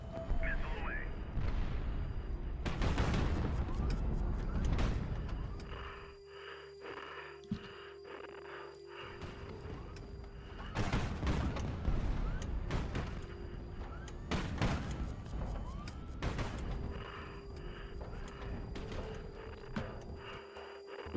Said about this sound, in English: We will start with a missile barrage though, and just see how much damage that can do.